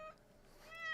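A house cat gives one short, soft meow that rises toward the end, faint and close in a quiet room.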